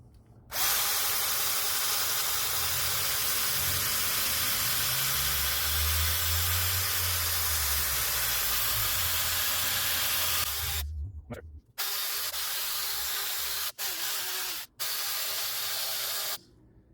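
Scrubbing a Lexus SC430 brake caliper clean with a bigger brush produces a loud, harsh, continuous rushing noise that runs for about ten seconds, then continues in bursts broken by a few short pauses near the end.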